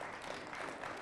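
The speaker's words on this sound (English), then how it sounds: "Round of applause." Brief, quiet applause from an audience at an AI summit, a steady wash of clapping with no clear voices over it.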